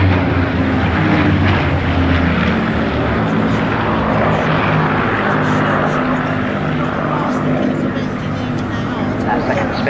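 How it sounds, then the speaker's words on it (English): Spitfire fighter planes flying over an air show, a loud continuous propeller-engine drone that fills the whole stretch with steady low rumble, while an announcer talks over it. "That second Spitfire is Philly Dunn Mason"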